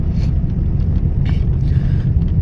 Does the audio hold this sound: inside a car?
yes